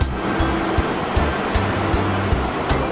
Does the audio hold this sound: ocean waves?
yes